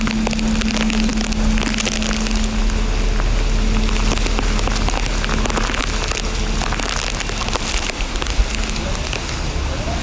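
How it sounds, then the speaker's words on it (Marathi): Heavy rain pours down during a windy storm in Nalasopara with the power out, a dense, steady roar close by that hardly lets up, with a voice talking faintly underneath. "पण आता पाऊस पण जोरात आला आहे"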